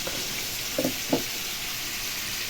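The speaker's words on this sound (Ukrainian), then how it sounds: "Піджарюється цибулька на борщик." Onions fry in a pan for borscht with a soft, steady sizzle, and two brief louder clinks or stirs break in near the middle.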